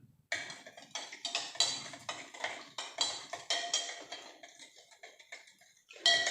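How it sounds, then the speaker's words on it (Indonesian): A utensil stirs an electrolyte solution in a glass container, producing a steady series of light, rhythmic clinks and taps, close and fairly quiet, with no talking. "Kita tambahkan lagi 80, jadi 180. Kita aduk."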